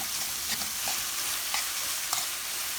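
Tomato sauce sizzles loudly in a hot pan while cooking karnıyarık, a dense steady hiss with occasional stirring clicks and no talk.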